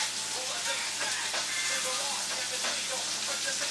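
Salmon searing in a hot pan gives a steady, close sizzle and crackle, with the hiss of frying holding level throughout and no voices.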